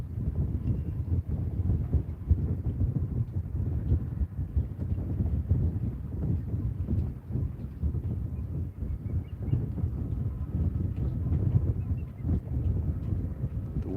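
Wind buffets a microphone outdoors at Lake Talquin in a continuous low rumbling gust that pulses irregularly and stays loud throughout, with no talking.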